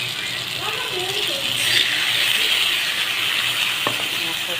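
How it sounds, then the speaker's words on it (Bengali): A spoon stirs food frying in a pan while lentil dal cooks with potato, steady sizzling hiss throughout with occasional scraping and a brief clink, loud and close. "চামচটা দিয়ে নাড়াচাড়া করে নিলাম।"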